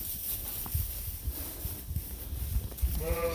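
Sheep being moved through a pen, with faint bleats, shuffling hooves and pen noise at low level, fairly distant and without talk.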